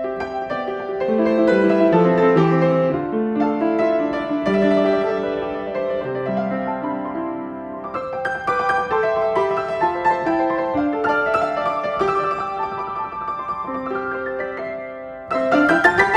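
Yamaha U1 upright piano played alone in a room, a flowing passage of chords and melody lines with sustained, resonant tones, close and fairly loud for about sixteen seconds.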